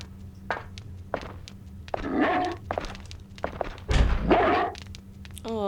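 Hewie the dog in a video game thumps and scrabbles as he charges at a luminescence, with several short dull impacts, a brief bark-like cry and footstep-like patter, fairly close, with no talk.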